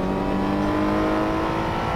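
Race car engine in a racing video game revving hard under acceleration, a loud steady whining drone with a clear pitch that holds close and constant throughout.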